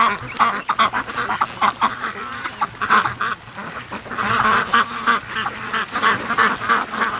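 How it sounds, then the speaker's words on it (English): A flock of free-range ducks quacking loudly and continuously at close range, many overlapping calls forming a busy, steady chatter. "Okay, ducks."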